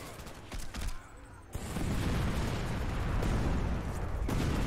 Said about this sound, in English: Right, let's just grenade this.